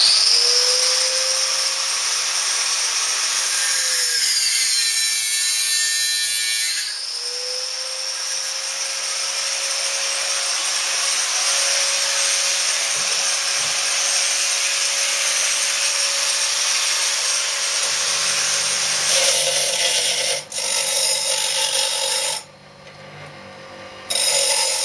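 A power tool cuts chamfers into metal tube ends for a welded rib on a motorcycle project in a garage, giving a steady, loud whine that runs through most of the span, briefly changing pitch and cutting out near the end.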